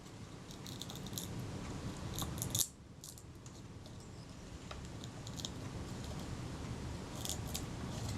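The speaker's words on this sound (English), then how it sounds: "Now here the scalpel is peeling that leatherette off." Scalpel peeling leatherette covering off the base of a Kodak Retina IIIS camera, faint close scratchy snips and clicks in small clusters over a low steady background hum, with no voices.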